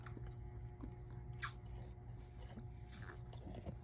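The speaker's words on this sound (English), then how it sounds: "okay, sorry, I was chewing" Soft, close chewing of mango jellies from a boba drink, quiet wet bites and squishes at an irregular pace over a low steady hum, with no talk.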